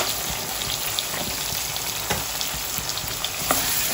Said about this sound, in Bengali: তারপর ভাজা হয়ে গেলে আমি একটু পেঁয়াজ দিয়ে দিব